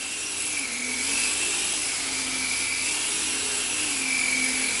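The small electric motor of an Uberlite RC plane flying indoors in a tiny living room gives a steady high-pitched buzz at quarter throttle, with the pitch swelling and dipping slightly as it passes nearby.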